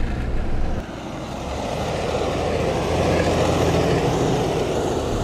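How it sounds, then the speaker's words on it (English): A JCB Fastrac 6300 tractor pulling a 3m cultivator gives a continuous, fairly close diesel engine rumble that dips briefly early on and then holds steady. "Currently we're just running the new 6300 Fastrac with a 3m CMO cultivator on the back."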